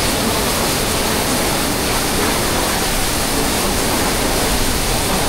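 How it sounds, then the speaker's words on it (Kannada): Godachinmalki Falls near Gokak roars as a dense, unbroken wall of rushing water, loud and steady throughout with no voices. "ಏನು ನೋಡತ್ತಂದ್ರ ನೀರಿನ ಆರ್ಭಟ"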